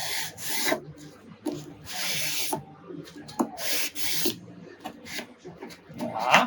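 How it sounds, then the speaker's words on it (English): Fine 600-grit sandpaper rubbed by hand over wood around a cabinet hinge recess, giving repeated short bursts of dry scratchy rasping in an irregular rhythm, close and fairly quiet, with no talking. "Take an old one that I have, maybe some 600 sandpaper. Just stick it in there."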